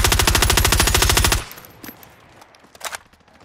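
Automatic gunfire in a battle royale video game: a loud, rapid, evenly paced stream of shots lasting about a second and a half, then cutting off to a quieter background with a few faint distant pops.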